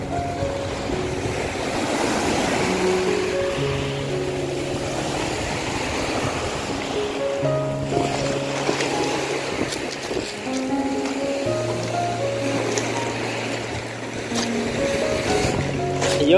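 Steady ocean surf rolls onto a scenic tropical beach, a continuous wash of waves and wind close to the microphone, with faint melodic tones layered over it.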